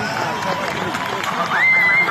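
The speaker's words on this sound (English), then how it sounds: "You hear the round of applause." A crowd celebrating news of four rescued hostages during the Israel–Hamas war fills the air with a dense, steady wash of applause and crowd noise, loud and close, with a thin whistle rising near the end.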